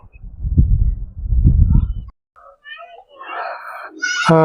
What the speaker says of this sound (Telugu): పిట్టల సప్పుడు